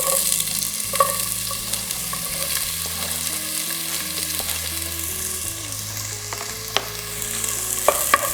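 Garlic fries in oil in a pot for chicken soup, a loud, close, continuous sizzle with occasional utensil clinks and stirring scrapes through the whole stretch, no speech.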